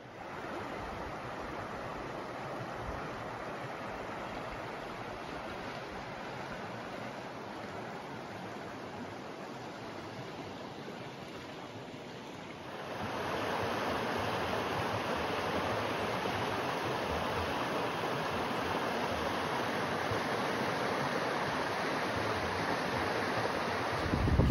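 Broad, steady rush of river water flowing north into a national park in remote northern Minnesota, constant and enveloping with no voices, growing noticeably louder and fuller about halfway through.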